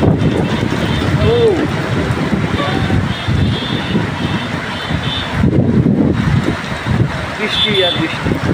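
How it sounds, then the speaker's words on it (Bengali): Heavy rain falls at a town bus stand in Kaliganj, Jhenaidah, driven by gusty stormy wind; a dense, continuous roar of rain and wind buffeting fills the scene, with some faint voices in the background. "দেখা যাচ্ছে প্রচুর পরিমাণে বৃষ্টি হচ্ছে।"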